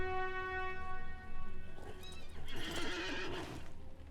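A horse mount in the Lord of the Rings Online video game gives a loud, clear neigh while its hooves clip-clop rhythmically close by, over a steady low background hum.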